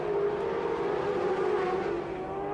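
Racing sidecar engines at Brands Hatch during a 2007 FIM Sidecar World Championship race, a continuous loud high-revving drone with a sustained whine that shifts slightly in pitch.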